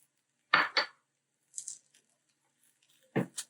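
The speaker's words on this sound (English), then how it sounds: "Let's also mix in some chopped walnuts" Chopped walnuts tossed into a bowl for a sweet potato canapé filling, giving a few short clattering scrapes and clinks of utensil against dish, separated by quiet pauses.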